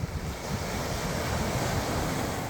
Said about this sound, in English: Ocean's right there.